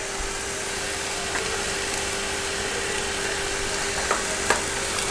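Onion, tomato and chili powder masala being stirred in a pan for Kerala-style egg roast, a soft steady sizzle with a few faint scraping knocks near the end.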